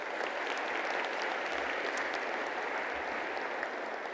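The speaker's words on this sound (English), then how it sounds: "Another round of applause, please, ladies and gentlemen." Conference audience applauding at a ministerial summit session, a steady dense wash of clapping from many hands that holds evenly for several seconds, with no voices over it.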